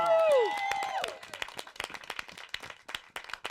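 A studio audience at a late-night show premiere claps steadily as one sustained note fades at the start, with a crisp patter of hands continuing throughout at moderate volume.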